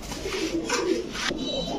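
Chuya Chandan pigeons cooing close by, soft repeated throaty coos rising and falling over a steady background hum.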